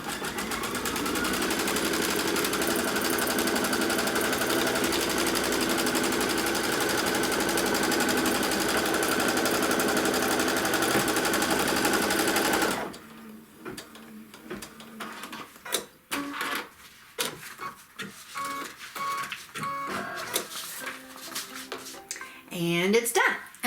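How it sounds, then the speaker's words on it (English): An embroidery sewing machine stitches the outline border of a quilt block in a hoop, a loud, steady rapid whirr for about half the time, then stops and gives way to scattered clicks and handling noises while a person talks. "last thing it's going to do is stitch that outline border all the way around"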